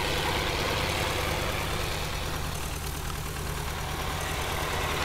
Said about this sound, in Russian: А вот он, смотрите, наш комбайн уже рассекает здесь.